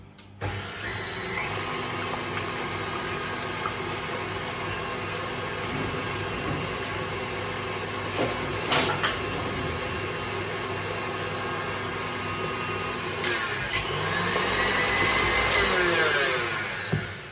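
An electric mixer beats sugar, butter and egg into cookie dough, a loud, steady whirring drone running continuously close up, with brief knocks and a slight rise in pitch near the end.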